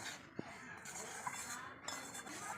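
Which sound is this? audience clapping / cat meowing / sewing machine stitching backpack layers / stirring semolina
stirring semolina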